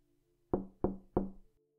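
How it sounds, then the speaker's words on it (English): Three firm knocks land in a steady, evenly spaced rhythm, hollow and resonant, each ringing briefly before fading. "3 more knocks."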